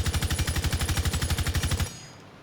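Sustained automatic gunfire from a Rainbow Six Siege weapon during a recoil test, a fast, steady, loud burst of about twenty evenly spaced shots that stops abruptly, followed by a short fading tail.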